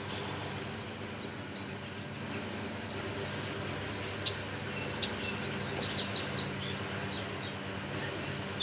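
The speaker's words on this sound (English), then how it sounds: "I just want to listen to the birds for a second." Small birds chirp outdoors in short, bright, repeated calls, fairly close and spaced a second or so apart, over a steady low hum of an idling truck.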